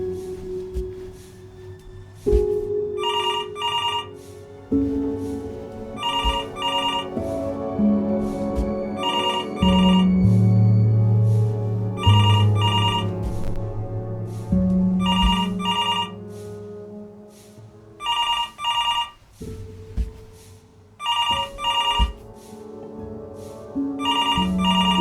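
Repeated electronic telephone ringing from the video game Before Your Eyes, bursts of trilling rings in a steady pattern over a sustained background musical score, with no talk.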